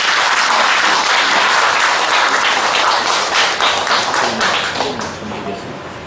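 Loud, dense applause from a large audience at an academy opening and entrance ceremony, steady clapping that gradually thins and softens toward the end.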